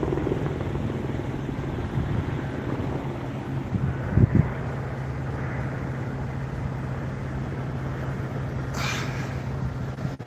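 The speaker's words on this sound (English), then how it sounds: "Another heli coming up and over." A helicopter flying overhead gives a steady, loud rotor drone that fills the whole stretch, with wind buffeting the microphone and a brief knock partway through.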